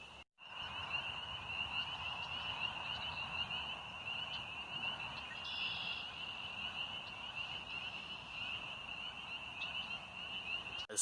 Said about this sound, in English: the peepers are just going at it right now. Certainly a whole bunch of them calling